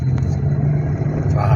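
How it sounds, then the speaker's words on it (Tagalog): Road traffic on a rainy drive toward Legazpi gives off a steady low engine rumble from the car, with a faint rising rev near the end and no clear break in the hum. "Traffic."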